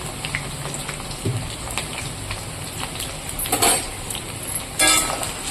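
Potatoes fry in hot oil with a steady crackling hiss, and a few brief louder sputtering bursts rise above the constant sizzle.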